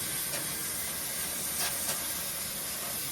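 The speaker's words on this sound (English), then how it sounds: "Spray it from the outside." A steady, close hiss of water spraying from a nozzle, continuous with slight surges, no voices.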